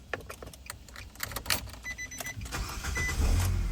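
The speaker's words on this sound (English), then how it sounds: "Now it's able to start the car, crank and start the car." A 2012 Nissan Sentra cranking and starting after a new transponder key is programmed: clicks and rattles, then the starter whirs and the engine catches, its low rumble building toward the end.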